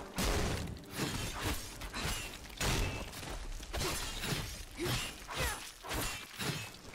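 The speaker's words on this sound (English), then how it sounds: "I love how they just shatter into loads of little tiny things." Objects shattering into many small pieces in the video game Skyrim, heard as a run of loud crashing bursts and clatters that repeat about every half second to second throughout.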